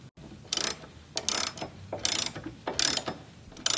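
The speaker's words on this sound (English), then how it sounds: "you're going to go ahead and reinstall these with the factory bolts using the Torx T50" A Torx T50 driver ratchets factory bolts back into Jeep JK hinges, sounding as several close, loud bursts of clicking pawl separated by short pauses, with no talk.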